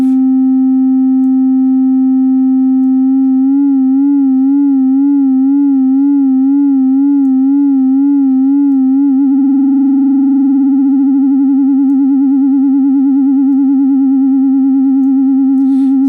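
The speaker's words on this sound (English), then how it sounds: "We'll modulate the frequency modulation with the sine wave." A synthesizer tone built by frequency modulation holds steady, then wavers in a regular sine-wave vibrato and settles into a faster, denser warble toward the end, with no voices heard.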